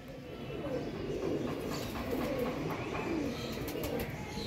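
Pigeons coo in low, soft, repeated calls under a rustling outdoor bed of noise, faint and steady, with scattered wing and chirp sounds at a pigeon-keeping hobby setting.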